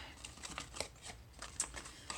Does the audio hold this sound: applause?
no